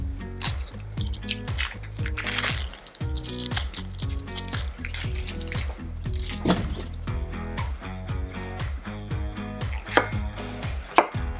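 A knife repeatedly cuts through stuffed chicken scallopini, making a quick run of close, rhythmic chopping taps and squishy slices with a few sharper clicks near the end.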